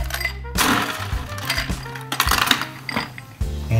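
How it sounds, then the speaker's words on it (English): Ice cubes clink and rattle into a mixing glass for a spirit-forward dark rum cocktail, a run of bright, scattered knocks and chinks heard up close with no talking. "So I'm adding ice."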